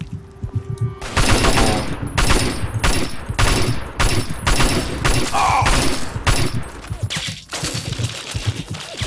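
Assault rifle fire in a violent shooter video game, loud repeated bursts of automatic gunfire crackling in quick rhythmic volleys at close range, with little or no talk.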